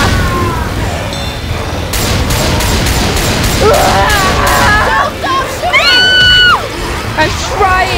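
Heavy gunfire in a video game rattles in fast bursts amid booms and chaotic game effects, loud and continuous, with people talking and shouting over it.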